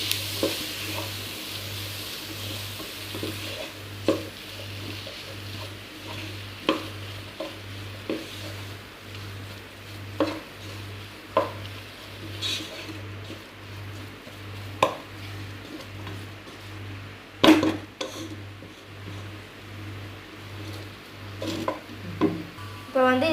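Tomatoes stirred into chicken curry masala frying in a pan, with a steady low sizzle and recurring scrapes of the spoon against the pan, close and moderately loud, with no talking.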